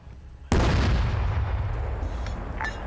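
A Sherman tank's gun fires once in a video game battle, a sudden loud blast that rolls out into a long rumbling decay, with faint distant sounds afterward.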